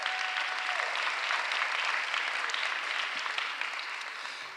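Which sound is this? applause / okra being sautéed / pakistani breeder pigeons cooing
applause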